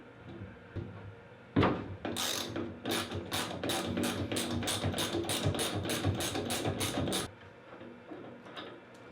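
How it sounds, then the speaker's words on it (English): An open socket set wrench ratchets on a Grohe shower diverter, giving a fast run of about a dozen sharp, close clicks over several seconds. Quieter handling noises come before and after. "Grab your socket set. I have an open socket set made just for these."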